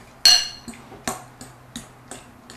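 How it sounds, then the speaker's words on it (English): Utensil scraping and clinking against a bowl while eggs are stirred into potatoes: a loud first clack, then a steady series of lighter, evenly spaced taps and chinks, close up with no talking. "Mix up the egg, get it in there with the potatoes"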